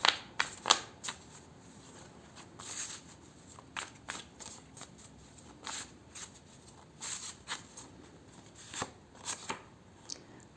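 Oracle cards, a deck of sarcastic animal messages, are shuffled and pulled by hand close up, soft riffling rustles and sharp card snaps coming in irregular bursts across a quiet room.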